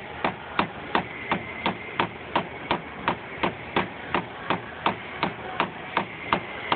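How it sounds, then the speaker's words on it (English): Steady hammering on nails, about twenty evenly spaced sharp knocks in a regular rhythm, close by with no voices. "now you can finish hammering those nails in"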